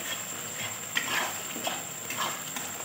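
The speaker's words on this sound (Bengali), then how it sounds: "নারকেল গুঁড়োটা তেলের মধ্যে দেওয়ার কারণ একটুখানি ভাজা ভাজা হয়ে গেলে নারকেলের গন্ধটা খুব সুন্দর আসে" Desiccated coconut and chilli powder fry in hot oil with a soft, steady sizzle and a few light stirring scrapes and ticks, quiet and close, with no talking.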